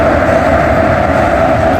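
A train stands at Shalimar station, heard from near the engine as a loud, steady, continuous rumble and hum with no breaks.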